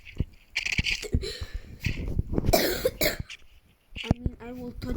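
A child coughs in several short, harsh bursts close by, mixed in with ongoing talking voices and a throat-clearing sound.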